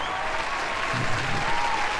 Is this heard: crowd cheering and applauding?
yes